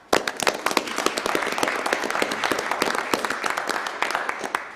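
Enthusiastic applause from the audience at a county commissioners' meeting, dense rapid clapping sustained throughout at a steady, fairly loud level.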